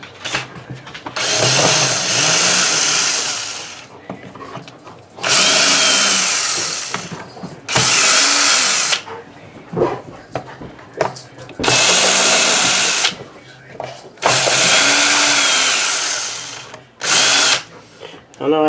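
A power drill backs screws out of a McCulloch MAC 3200 chainsaw, whirring loudly in several separate bursts of a second or two each, with quiet gaps between runs and no talk.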